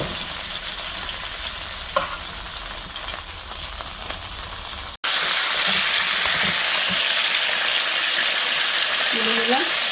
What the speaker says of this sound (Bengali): বাকিগুলো এভাবে সবগুলো ভেজে নেব